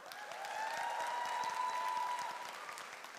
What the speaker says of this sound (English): Please cheer for them.